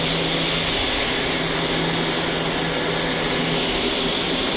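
A textile mill machine turning cloth inside it gives a steady, loud mechanical drone with a low hum, continuous and without voices.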